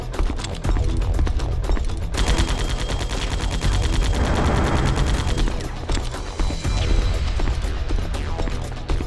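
Rapid bursts of gunfire from Metal Gear Solid: The Twin Snakes on GameCube rattle in dense, loud volleys, overlapping sharp shots and machine-gun chatter running almost continuously with no speech.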